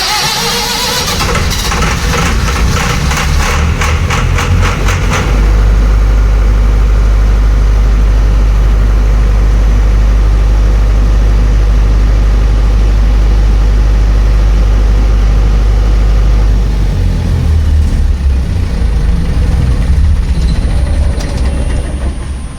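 A generator engine cranks with rapid clattering, catches into a loud, steady low rumble for about twelve seconds, then shifts and winds down as it trips on under speed, with a faint beep at the end.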